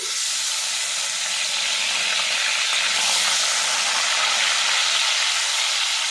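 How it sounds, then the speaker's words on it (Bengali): Onion paste frying in hot oil for a potato curry (aloo dum), giving a loud, even, continuous hissing sizzle that stays steady from start to finish with no voices. "পেঁয়াজটা আমি ভেজে নেব"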